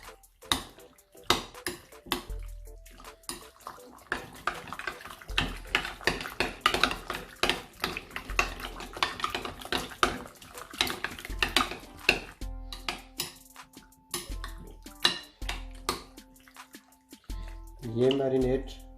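Chicken is stirred with yogurt in a bowl to mix a marinade for shahi chicken korma, giving repeated wet scraping and clinks of a spoon against the dish, soft and close, under a person speaking.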